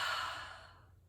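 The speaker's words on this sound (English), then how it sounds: "Take a breath." A deep exhale of breath during a yoga flow, a single soft, airy sigh up close that fades out over about a second, with no talking.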